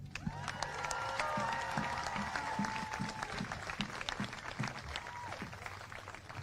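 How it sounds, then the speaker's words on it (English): An audience at an ICE protest event claps warmly in sustained applause, with crowd cheering and a few whistles mixed in. "can you give a warm round of applause to Faisal Khan, please?"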